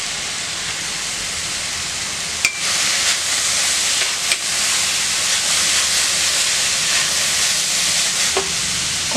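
Carrot poriyal with grated coconut cooking in a covered pan gives off a steady, even hiss of steam, with a few faint clicks and taps over the constant rush.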